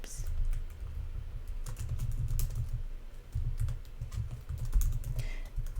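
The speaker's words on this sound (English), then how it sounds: "then just type in your club's website address" Rapid, close clicking of keys on a computer keyboard as a web address is typed, with brief pauses and soft background sounds.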